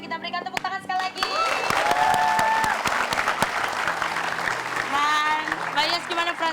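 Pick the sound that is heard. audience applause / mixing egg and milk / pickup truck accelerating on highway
audience applause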